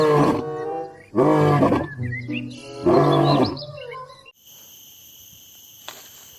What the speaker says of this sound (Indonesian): ini adalah induk singa